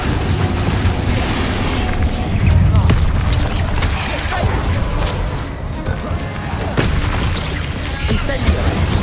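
Confringo spell blasts in a Hogwarts Legacy duel, repeated booming explosions and crashes packed closely together at high volume, with a voice calling out over them.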